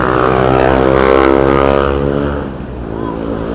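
Loud droning engine of a small scooter on a busy Kuala Lumpur road, a strong buzzing hum with rich harmonics that swells and then eases slightly as it passes close by.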